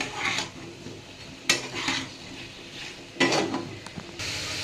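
Capsicum, onion, tomato and green chili are stirred into a pot of chicken stew, with a few scraping, clattering strokes of a spoon against the metal over a faint background sizzle.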